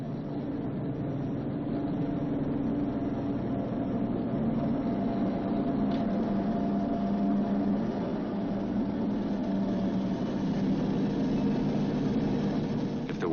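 B-29 bomber's radial engines during the early takeoff roll, a steady, dense droning roar that holds constant and fairly loud throughout.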